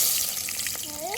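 Chopped onions hit hot oil in a home kitchen pan where mustard seeds are already frying, giving a steady, close, bright hiss with a few faint clinks over it.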